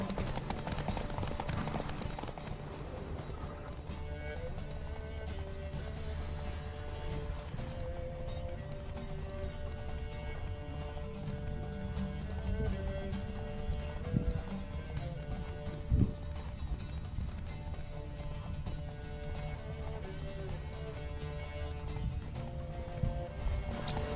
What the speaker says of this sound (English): I'm actually disappointed with the stamina of this horse